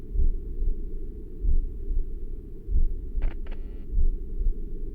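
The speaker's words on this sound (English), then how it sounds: "Why is there a heartbeat?" A steady in-game heartbeat from Fuga: Melodies of Steel 2 thumps low and muffled at an even slow pulse over a dull hum, with a brief pair of higher electronic blips partway through.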